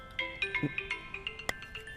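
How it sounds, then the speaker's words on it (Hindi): A phone rings in a dramatic film scene with a bright, repeating electronic ringtone melody that sounds steadily and clearly for about two seconds, with no talking over it. "इस समय कौन फोन कर रहा है?"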